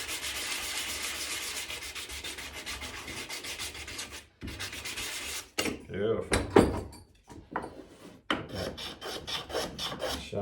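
Rasping strokes of a file taking the chamfer off the edge of a wooden sword, a steady run of scraping passes followed by short bursts with pauses between, close by with a few knocks of the wood.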